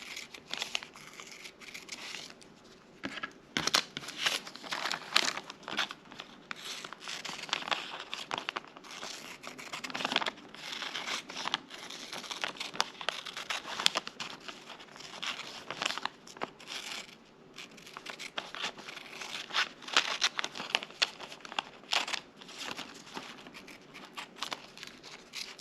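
Scissors cut steadily through a paper sewing pattern for a baby burp cloth, a continuous close crinkling and snipping of paper with no talk.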